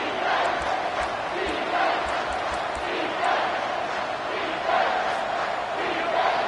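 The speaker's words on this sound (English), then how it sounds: "Decibels rising as the crowd gets behind this defense on 3rd down." Stadium crowd in an NCAA football video game on a defensive third down, a steady dense roar that swells in waves, loud and continuous.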